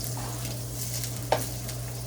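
Pork browning in a hot pan and being turned over, with a steady soft sizzle under a low hum and one brief scrape or clack as the meat is flipped.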